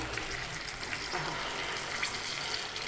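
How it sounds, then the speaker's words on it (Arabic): Hot water is poured steadily into a bowl of crushed garlic and vinegar for Egyptian koshari sauce, a continuous close splashing gush with no break. "وبعدين نكمل بقى الكميه كلها كده ميه سخنه."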